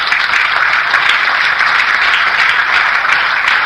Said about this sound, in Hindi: आप तालियां बजा रहे हैं